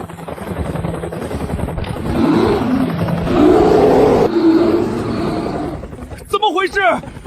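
A helicopter in an animated cartoon scene on a residential rooftop hums and whirs steadily under fairly loud talk, with shouting and animal-like roars mixed in toward the end.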